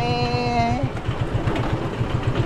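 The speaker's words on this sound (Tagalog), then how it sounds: "Madalas nilang gamitin tong motor." A motorcycle engine idles nearby with a loud, rapid, pulsing putter, a brief high whine fading out at the start and the uneven chug continuing alone.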